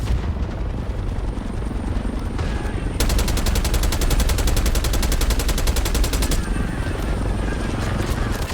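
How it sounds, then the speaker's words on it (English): Enemy helicopters overhead in Call of Duty Black Ops 6, a constant loud rotor roar blended into a dense battle din, with a stretch of rapid rhythmic chopping or gunfire pulses in the middle. "We got enemy helos in the air."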